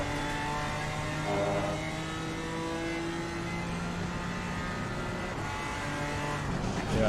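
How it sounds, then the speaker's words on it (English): Race car engine in Assetto Corsa Competizione, a BMW M4 GT3 or GT4 on the Imola circuit, droning steadily and loudly as it approaches, pitch rising slightly near the end. "That's the class car approaching."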